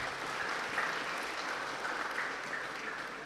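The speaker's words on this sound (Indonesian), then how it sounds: "Tepuk tangan sekali lagi." An audience at an Indonesian campus talk gives a sustained round of clapping, thick and even throughout, with no pauses or voices standing out.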